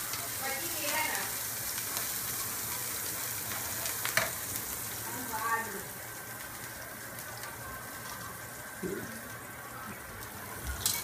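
Green chillies sauté in a pan of hot oil for a banana subzi, giving a steady, moderate sizzle with a few stirring scrapes and clinks and a brief louder splash near the end.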